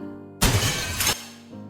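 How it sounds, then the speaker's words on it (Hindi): A glass of water falls and shatters at home, landing in one sharp crash with a brief tinkling scatter that fades quickly, preceded and followed by quiet room tone. "वो पानी का गिलास रखा था, वहीं गिर गया।"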